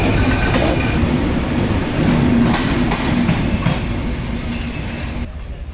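The Padma Express rolls past at night bound for Rajshahi, a loud close rumble of carriages and wheels with faint squealing, easing slightly as it moves on.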